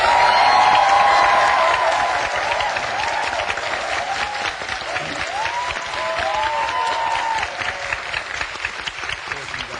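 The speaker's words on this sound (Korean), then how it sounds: "강사님께 다시 한번 박수 드리죠" Studio audience of a televised lecture talk show applauding the lecturer, steady crowd clapping with a few cheers and whoops mixed in, gradually easing toward the end.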